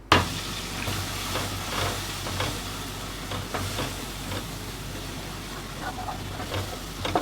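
Mint paste sizzling and spattering in hot oil with ginger-garlic paste for pudina rice, a soft steady crackle with occasional stirring scrapes, fairly quiet and close, no talk.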